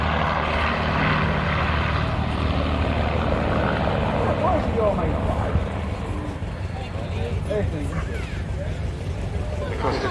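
A propeller aircraft with Rolls-Royce engines passes overhead at a rally, a loud sustained engine roar that fills the scene and slowly eases, with people talking underneath.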